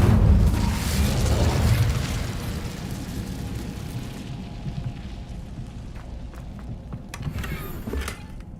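The Incendio fire spell cast in Hogwarts Legacy: a loud, broad fiery whoosh and burst that swells at once, then decays into a sustained crackling, roaring rumble with small pops near the end.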